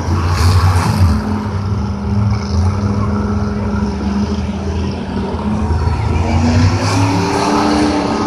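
Monster truck engines roar without pause in a stadium at a 2015 Monster Jam racing event at Gillette Stadium in Foxboro, a loud, dense, sustained rumble with rising and falling revs and no clear gaps.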